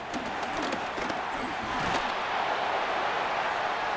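A dense stadium crowd roars steadily throughout a Madden 26 football game between the Bengals and Patriots, loud and continuous with a few sharper bursts, and a commentator's voice is faintly mixed in.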